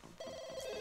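A telephone rings in the life-simulation game The Sims 2, a brief, faint electronic trill sounding alone for under a second.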